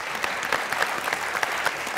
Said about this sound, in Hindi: आज की तालियां होनी चाहिए।